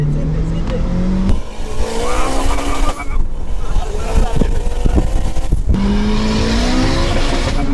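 A 500 bhp Alfa Romeo with a ZF DSG gearbox accelerates hard, its engine rising through gears with quick shifts, tire noise and loud, continuous close roar, while people talk over it.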